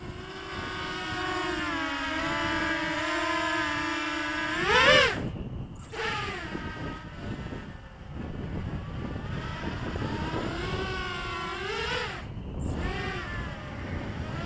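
A Walkera F210 racing drone flying into strong wind, its motors giving a loud, close, whining hum whose pitch rises and dips sharply as it is buffeted, with wind rushing across the microphone.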